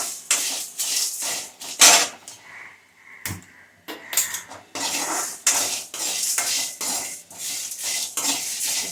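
Ingredients roasting in a pan over a low gas flame, with a utensil stirring and scraping against the metal in repeated clattering bursts, fairly close and loud, with no one talking.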